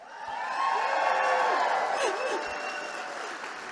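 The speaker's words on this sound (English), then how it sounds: "stand up and give yourself a cheer" Crowd at a New Democrat (NDP) rally in Sherwood Park cheering and clapping, a swelling burst of applause with whoops that peaks and then settles into a steady roar.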